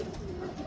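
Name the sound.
pigeons cooing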